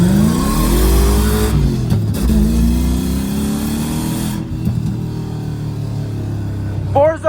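A Lexus SC400 pulls away, its engine revving up loud and close with rising pitch, then shifting and settling into a steadier drone as it keeps accelerating; brief voices near the end.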